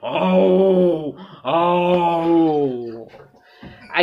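A voice imitates a tiger with two sustained, strained roaring cries, loud and close, followed by a short breathy tail.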